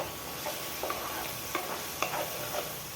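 Curry leaves fry in a pan with onion, tomato and green chilli, giving a steady close sizzle broken by soft crackles and light stirring scrapes.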